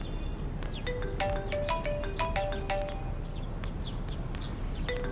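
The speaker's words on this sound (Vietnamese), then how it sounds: "Hình như anh có điện thoại hả?" A mobile phone ringtone plays a chirpy melodic pattern of short repeated tones over a steady background hum, moderately loud and continuing without speech.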